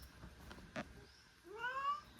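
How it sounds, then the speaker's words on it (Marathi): A cat gives a short, drawn-out meow near the end, preceded by a couple of soft knocks in a quiet room. "मी माझे मांजर आज मला त्रासच द्यायला लागले"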